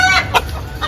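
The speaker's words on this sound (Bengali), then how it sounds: "এই যে এগুলো দেশি মুরগি সব" Native deshi chickens cluck close by in a few short, bright bursts over a low background hum.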